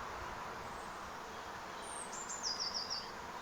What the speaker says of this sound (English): and I can hear the birds singing